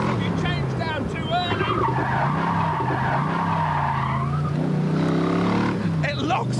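Rear tyres of a Dax sports car with a big, torquey engine lock up on tarmac during an early downshift, giving a long, loud tyre squeal and skid under engine noise while someone talks over it.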